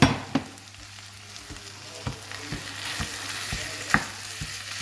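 Ground meat fries with already cooked onions in a pan, a continuous crackling sizzle with scattered spatula taps and scrapes close by and no talk.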